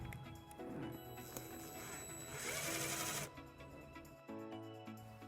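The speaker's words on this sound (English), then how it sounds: "We're going to attach this to the body of the vehicle using our provided self-tapping screw" A power driver sends a self-tapping screw into the metal body of a 2013 Jeep Compass, a close whining motor hum rising and falling in pitch over a couple of seconds before cutting to quieter handling noise.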